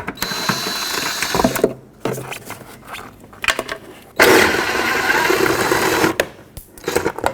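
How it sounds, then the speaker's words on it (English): A ratchet wrench removes 10mm nuts from the windshield washer reservoir on a 2005-2010 Pontiac G6, giving close bursts of rapid mechanical clicking separated by short pauses, with no voices. "There are 3 10mm nuts, so let's take them off."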